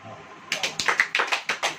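Congregation at a Hindi-language church sermon clapping hands in a rhythmic, unison beat, about ten sharp claps spaced evenly after a brief quiet start, close and fairly loud.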